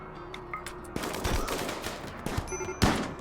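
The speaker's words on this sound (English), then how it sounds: "Fitz damaged the jaw with the heavy SMG" A heavy SMG fires in RimWorld, short rapid bursts and scattered sharp shots in a colony firefight, fairly close and punchy with brief gaps between volleys.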